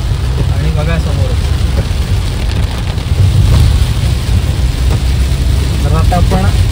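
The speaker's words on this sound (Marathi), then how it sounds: "पाऊस थांबायचं नाव घेत नाही आहे" Heavy monsoon rain in coastal Konkan near a flooding river, steady rain noise under a low rumbling engine, with brief voices talking faintly in the background and a louder surge midway.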